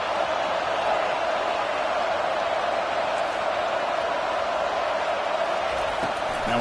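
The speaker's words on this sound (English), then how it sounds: "listen to this crowd noise. This stadium is vibrating." A packed football stadium crowd roars in a continuous, dense, loud wall of noise that barely varies in level.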